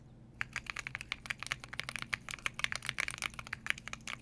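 Rapid clacky typing on a computer keyboard, close and crisp, with irregular keystrokes and a few louder thocks over a faint hum.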